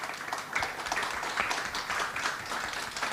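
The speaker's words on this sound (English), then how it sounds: "A round of applause again for all of them." A lecture audience applauds the speakers, steady dense clapping from many hands filling the room throughout.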